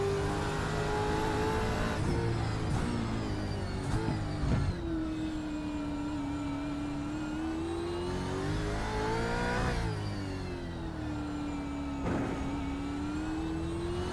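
Simulated V8 Supercar engine from iRacing at the Adelaide street circuit, a loud continuous roar that rises and falls through gear changes and revs, heard alone without talk.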